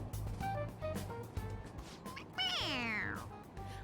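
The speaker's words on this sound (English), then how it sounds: "It meows when you press on its head." Toy cat in the Persona 5 Royal video game meowing when its head is pressed, two or three short meows and then a louder, drawn-out falling meow, close and clear.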